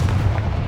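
Confringo explosive spell from the video game Hogwarts Legacy, a single short, heavy blast with a deep booming thump, loud and close, over in under a second.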